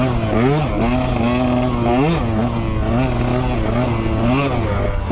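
A 2021 KTM 125 XC dirt bike engine rides through snow, revving hard and close, its pitch climbing and dropping in quick surges as the throttle opens and closes, continuous and loud throughout.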